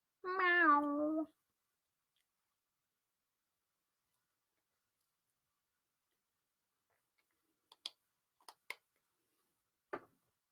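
A cat meows once in another room, a single clear drawn-out call at the start, then near silence broken by a few faint ticks.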